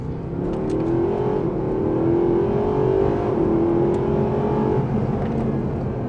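A Mercedes-AMG SLS Black Series engine revving up and shifting early, a loud, close, continuous growl that climbs in pitch, drops at each upshift and climbs again, with no talking.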